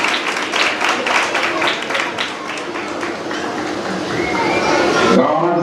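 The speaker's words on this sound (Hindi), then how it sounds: "Clap for yourself for coming to this program" An audience at a church program claps together in steady, close applause, with a voice speaking over it and the clapping thinning out toward the end.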